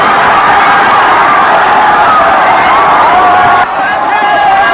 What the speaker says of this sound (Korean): 슛이 터지자 SBS 목동신 사옥에선 일제히 환호성이 터집니다.